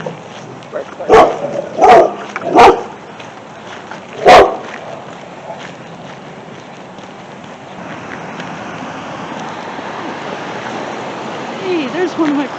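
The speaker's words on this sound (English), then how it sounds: "Bark, bark." Several sharp dog barks ring out close by in quick bursts, then a single bark after a pause, over the steady rush of a stream or rain outdoors in the morning.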